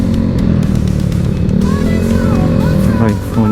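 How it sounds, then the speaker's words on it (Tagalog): A Yamaha Mio scooter engine riding ahead on the road, heard as a loud, continuous droning motor hum blended with wind and traffic noise, with someone talking over it near the end. "Maingay yung motor niya."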